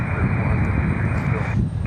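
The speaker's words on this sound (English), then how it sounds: "Looks like we've got a Delta on the move over here for departure" A Delta airliner moving out for departure at RDU airport, a loud steady jet engine roar that stays constant and close throughout.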